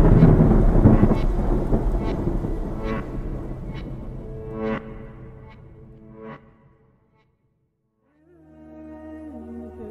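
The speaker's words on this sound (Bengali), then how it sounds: "বাইরে প্রচণ্ড জোরে বিদ্যুৎ চমকিয়ে তুমুল বৃষ্টি শুরু" Heavy thunder rolls over a loud downpour of rain in a storm sound effect. The rumbling peaks and slowly dies away to near silence before a soft, low tone comes back.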